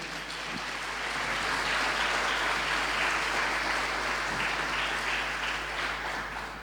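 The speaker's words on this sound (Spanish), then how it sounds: "dale un aplauso al Señor" A church congregation applauds during a Spanish-language sermon, producing a steady, dense wash of clapping that holds for the whole stretch, moderately distant and without speech over it.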